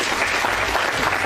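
An audience at a funeral service claps for a moving tribute, a sustained burst of applause from a crowd that fills the hall at a steady level.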